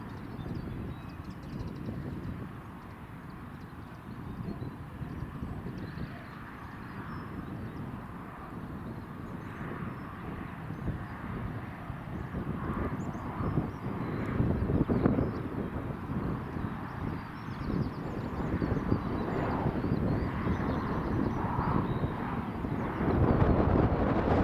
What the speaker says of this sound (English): The Emirates just taxiing along the runway.